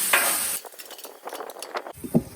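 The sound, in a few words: vegetables sizzling on a Blackstone griddle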